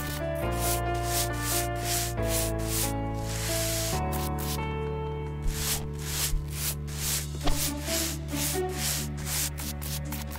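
Spray nozzle cleaning dirt from a floor in House Flipper VR, a steady close hissing rush that carries on through the whole stretch over layered game music, with a few brief bumps and squeaks.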